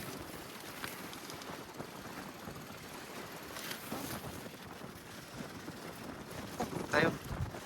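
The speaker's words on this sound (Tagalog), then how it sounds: "Yan, malakas po ang hangin ngayon." Strong wind at a waterside fishing spot during casting setup, gusting and buffeting the microphone in uneven rushes that swell near the end, with a voice talking over it.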